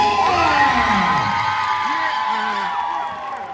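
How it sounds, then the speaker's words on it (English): A large crowd cheers and shouts loudly and steadily for the United States Marine Corps, with whoops rising above the roar and a voice speaking over it. "a big round of applause to the few, the proud"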